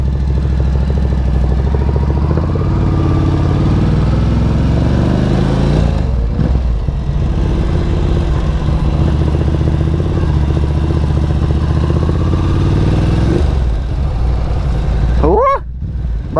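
A Honda CB650R inline-four motorcycle engine runs loud and close, with a steady throaty drone, rising and falling revs and a few dips as the throttle eases, while a voice speaks briefly over it.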